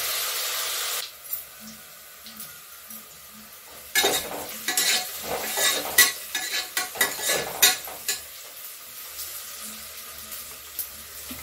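Onions, green chillies, cinnamon and cloves sautéing in a pan for mint rice, a soft hiss broken by bursts of spatula scraping and stirring, with a faint tapping between.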